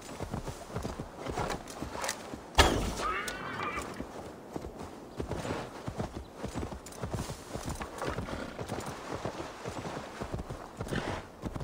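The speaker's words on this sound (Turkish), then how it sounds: "Ya yürüt şu atı hadi." Horse hooves clip-clop steadily in Assassin's Creed Valhalla, a continuous trotting rhythm with a brief whinny near the start. Someone talks intermittently over it.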